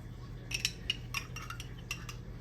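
Tartar sauce with sweet relish is mixed in a bowl, a quick run of light clinks and scrapes from a utensil against the dish, close and moderately loud, without talking.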